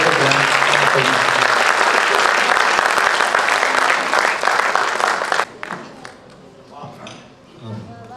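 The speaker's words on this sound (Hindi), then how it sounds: "जोरदार तालियों" An audience at a Hindi comic poetry gathering claps loudly and densely for about five seconds before the applause cuts off abruptly, leaving scattered quieter sounds and a brief voice.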